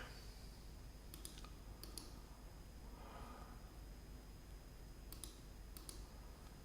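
Faint computer mouse clicks come in quick pairs, two double clicks early and two later, over a steady low room hum.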